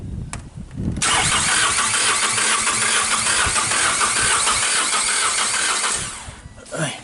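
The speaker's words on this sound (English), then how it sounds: "So we're gonna start this vehicle. We're gonna crank it." A car engine with a cylinder misfire cranks briefly, then catches and roars up to a loud, steady rev for several seconds before dropping off, with a person speaking nearby.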